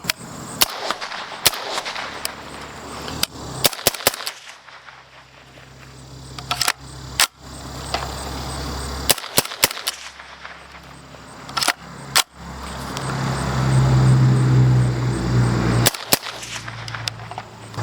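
Suppressed gunshots from a Resilient Stacy's Mom K suppressor fitted with a fully vented end cap, a string of sharp, loud outdoor reports in irregular groups separated by short gaps.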